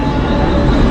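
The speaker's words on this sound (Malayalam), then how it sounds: "ഇപ്പോൾ ഒരു ട്രെയിൻ ഉണ്ട്, അത് മിസ്സാവാതെ കയറി കഴിഞ്ഞാൽ ഈ ട്രെയിനെ" A crowded Mumbai local train rumbles loudly and close, a continuous heavy roar of wheels and carriage noise.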